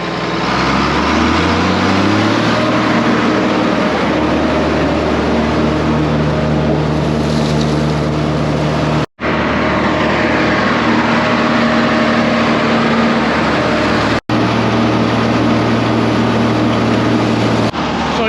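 A John Deere tractor engine runs steadily near and loud while throttled up to power silo filling, its deep drone holding a low even pitch with a couple of brief cutouts.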